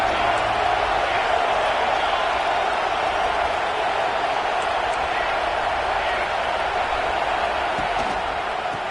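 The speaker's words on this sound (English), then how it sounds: "This crowd bringing the energy and noise early." A large stadium crowd at a Georgia vs LSU college football game roars in a steady, dense wall of cheering noise, with a broadcast commentator talking over it.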